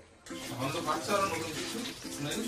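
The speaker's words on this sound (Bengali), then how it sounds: "এই যে সমস্ত সবজি চাল ডাল একসাথে হয়ে গেছে, এবার এটাকে ধুয়ে বসিয়ে দেবো" Tap water runs over rice, lentils and vegetables being washed together for khichuri, a close splashing gush that starts abruptly and continues steadily, with a voice faintly under it.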